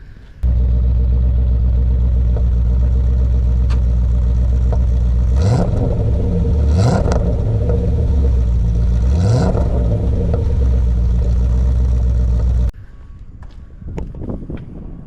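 A 1978 Porsche 928 with a dogleg manual gearbox runs steadily, its low engine and exhaust drone loud and close. Three short revving swells rise above it before the sound cuts off to faint rustling.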